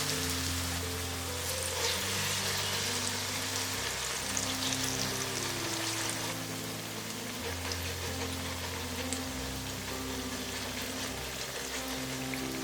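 Old cucumber pancake batter sizzles and crackles steadily in an oiled pan over medium-low heat, a dense, even frying hiss that continues unbroken throughout with no voices.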